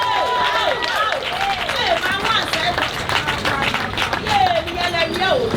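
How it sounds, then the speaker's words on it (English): Wedding guests at a white wedding ceremony clap and cheer for the couple, brisk continuous clapping mixed with excited whoops and voices, loud and close, lasting throughout. "Now you can make noise here and clap for them"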